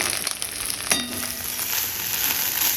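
Washed chickpea greens drop into hot oil with garlic, setting off a sudden loud sizzle that settles into a steady, hissing fry.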